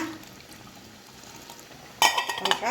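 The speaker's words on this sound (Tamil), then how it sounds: "பால் இது 2ஆம் பால் விடுவோமா" Second coconut milk splashing into a pot of Jaffna-style sambar, a sudden close liquid pour with light metallic clinks that starts after a quiet stretch and continues to the end.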